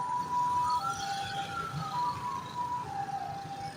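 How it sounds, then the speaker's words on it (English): Ambulance sirens wail continuously, with long sliding tones rising and falling at moderate loudness over a steady background rumble, and no one speaks. "Can you see the number of ambulances?"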